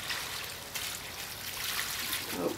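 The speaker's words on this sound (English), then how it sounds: "I'm going to pour this all over the grate." Cleaning mixture with baking soda pours steadily over a grill grate, a continuous close trickling and splashing that runs for a couple of seconds.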